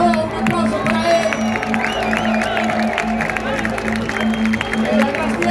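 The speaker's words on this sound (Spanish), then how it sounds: "un aplauso para él" A concert crowd in Barcelona applauds and cheers for the sound engineer at the mixing desk. The sustained clapping and whoops are moderately loud and sit under steady music tones and voices.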